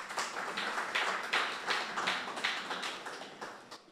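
An audience at an evening Café Philo talk gives a round of applause, scattered hand claps rising in loose bursts then tapering off, moderately near and fairly quiet.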